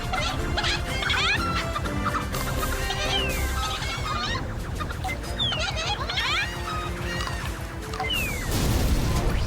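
Cartoon chickens cluck and squawk repeatedly over a busy video-game soundtrack of rapid firing blasts and zapping effects in Chicken Invaders, with a crash near the end.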